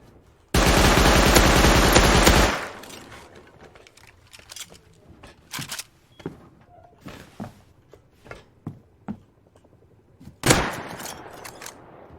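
Video game gunfire opens with a loud sustained burst of rapid automatic shots, followed by scattered single distant shots and a final short loud burst toward the end.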